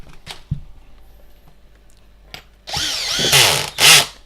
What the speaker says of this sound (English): you hear the sound where it disengages from the drill